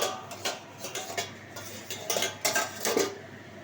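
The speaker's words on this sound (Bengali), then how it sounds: "দেখুন এবার ঢাকনাটা আমি খুললাম।" A metal pot lid lifted off a pan of kacha fish and pumpkin chorchori, giving a few light clinks and clatters of metal on metal, close and fairly quiet, with no voice.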